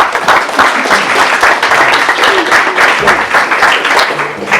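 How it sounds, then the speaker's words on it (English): Applause from a conference audience at an academic papers session on learning with MOOCs, a steady wash of many hands clapping that holds for several seconds at fairly even loudness. "Give me a round of applause."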